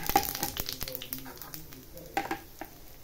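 Kalo jeera and cumin seeds tempering in hot oil for a traditional Noakhali mustard rohu curry, a soft close crackling sizzle with scattered pops and light stirring scrapes.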